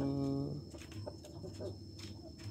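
Ayam ekor lidi chicken giving a few soft, short clucks, faint and close, after a brief tonal call at the start.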